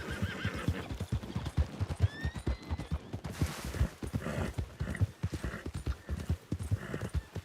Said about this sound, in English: Some wild horse in here